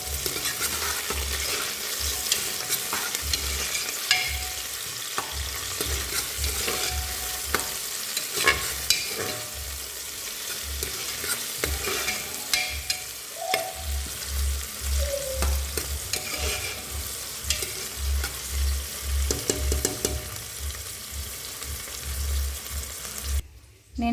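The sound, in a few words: stirring curry leaves and green chilies frying in pan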